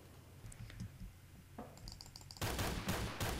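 Rapid automatic gunfire in the video game Phantom Forces, loud crackling bursts arriving late after a stretch of softer shuffling and faint clicks.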